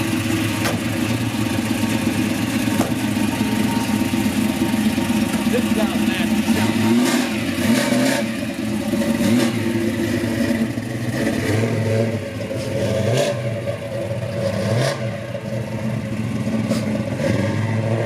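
A 1969 Dodge Charger engine runs loud and steady, rumbling low with a few rising revs in the second half, while people talk over it.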